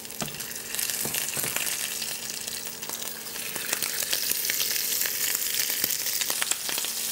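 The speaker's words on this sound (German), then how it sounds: "Richtig scharf anbraten." Shrimp sear in a very hot pan with a steady, bright sizzle and crackle throughout, punctuated by occasional clicks and pops as they are stirred.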